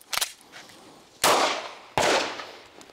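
Two sharp, loud Walther P99 pistol shots about a second apart, each with a short decaying echo, preceded by a fainter snap.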